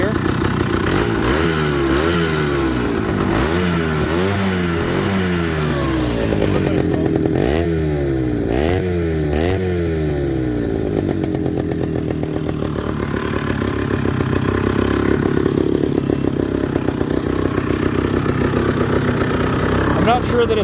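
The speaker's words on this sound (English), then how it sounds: "It sounds like a big monster chainsaw because it's a two-stroke." A 1968 Rokon Trailbreaker two-wheel-drive motorcycle's two-stroke engine runs close by with a buzzing, chainsaw-like rasp, revving up and down in repeated swells before settling into a steady drone.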